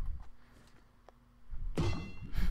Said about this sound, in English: Fun little tire bounce on the way down